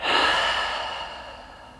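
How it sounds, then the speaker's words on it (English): A single long, full exhale during a yin yoga session, a soft airy breath starting strong and gradually fading over nearly two seconds, close and alone. "Take a full breath in here. And a full breath out."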